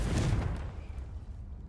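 A Confringo fire spell cast in Hogwarts Legacy: one deep, booming burst up front that rumbles and decays over about a second and a half.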